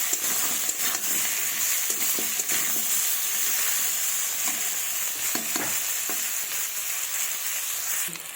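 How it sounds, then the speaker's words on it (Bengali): Potatoes frying in oil with salt and turmeric for a fish curry, a loud continuous close sizzle and hiss with occasional stirring scrapes, no voices. "লবণ, হলুদ গুঁড়ো দিয়ে এটাকে ভালোভাবে লাল লাল করে আলুগুলোকে ভেজে নেব।"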